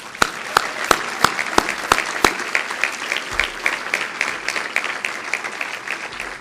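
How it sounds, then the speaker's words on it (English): An audience at the 2011 ATHENA Awards applauds the eleven women nominees, with sharp, loud individual claps standing out over a continuous bed of scattered clapping. "Let's give everyone a round of applause."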